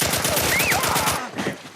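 Gunfire in the video game The Last of Us, a dense burst of shots packed together like an automatic volley, loud and close, ending abruptly and followed by quieter game ambience.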